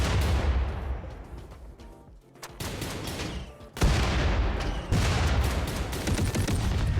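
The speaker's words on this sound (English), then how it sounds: "That cannon thing sounds BA. Yeah. That's to the... I think that's the mech HMG." In the video game RimWorld, a mech heavy machine gun cannon fires in dense, loud bursts of rapid booming shots. The volleys briefly thin out and then resume at full intensity.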